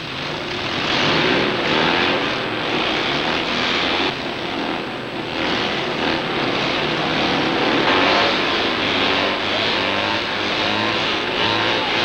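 Several Citroën 2CV cross race cars idling and revving together at the start of a race, a loud continuous engine roar close by that swells and dips without letup.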